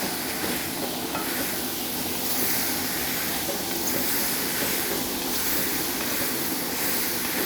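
Onion, dried red chili, ginger, garlic and mushrooms sauté in a pan with a loud, constant hiss of sizzling that holds steady from start to finish.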